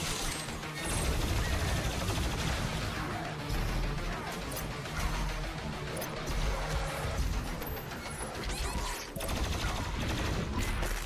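Continuous gunfire and explosive impacts from the Doom video game, a dense, loud, unbroken barrage of shots and crashes filling the whole stretch, with a voice faintly beneath.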